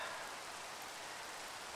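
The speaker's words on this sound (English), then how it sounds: "And it's raining too" Steady rain hiss from a Minecraft-style survival game, a constant dense wash of falling drops with no other sounds.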